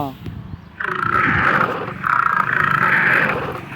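A big cat's deep, rough roar sounds in two long, loud bursts, close and harsh.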